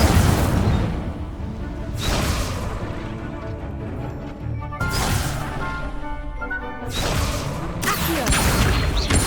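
Incendio fire spells are cast repeatedly in Hogwarts Legacy, with four loud, whooshing fiery bursts spaced a couple of seconds apart over continuous game noise.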